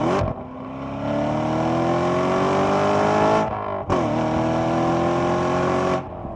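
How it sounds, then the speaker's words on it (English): A 2014 Chevrolet Corvette Stingray Z51's exhaust roars under hard acceleration, pitch climbing through gears with two sharp breaks at shifts, loud and close. "also a really nice sound when you get on the throttle hard"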